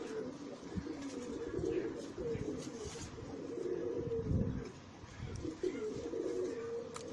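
Saharanpuri pigeons coo softly in low, rolling phrases that repeat over several seconds, heard close by with faint background noise and a few sharp clicks.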